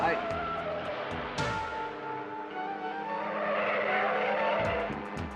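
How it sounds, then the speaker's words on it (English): A sports car out of control, engine roaring and tires skidding with rising and falling squeals, loud and close, with music or other noise layered over it. "There's a sports car down there out of control."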